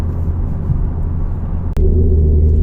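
A 2012 Infiniti G37xS coupe engine rumbles steadily at close range, a deep continuous drone with a brief dip partway through before settling back into a heavier, steady tone.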